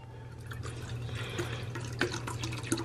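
Fiji bottled water trickles and drips softly, a light splashing pour heard close but faint against a low steady background hum.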